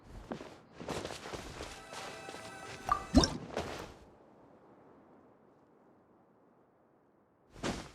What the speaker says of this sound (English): Wow, another water droplet just came out from the wall!